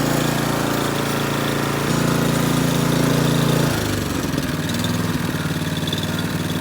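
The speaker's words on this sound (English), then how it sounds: "Beautiful engine control on the Honda." Honda HS928 snowblower engine running cold, a loud steady mid-pitched drone whose pitch drops partway through as the throttle changes, then settles into a lower idle.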